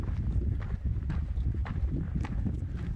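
Cows moving along a desert hiking trail in Arizona, a dense run of soft hoof thuds and shuffling steps at close range, steady and continuous with no voices.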